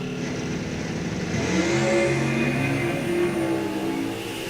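A 2000 Pontiac Firebird Super Stock drag car launches at an NHRA National Open, its engine roaring loud and close, the note climbing steadily as it pulls away over several seconds.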